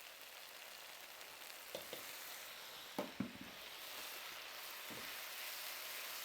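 Vegan West Sumatran rendang with a splash of lemon juice sizzles softly in a pan, a faint steady hiss broken by a few quiet scrapes and knocks of mixing.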